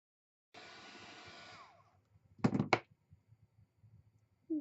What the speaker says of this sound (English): Now I'm going to take my heat gun and I'm going to dry that off.